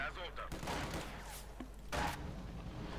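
Cannon blasts and gunfire from the video game Company of Heroes 2, including an Arctic cannon hitting a scout car, come as loud, booming bursts separated by short lulls.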